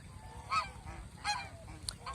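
Domestic geese on a goose farm give a few loud, nasal honks in quick succession, close by and clear over quiet background.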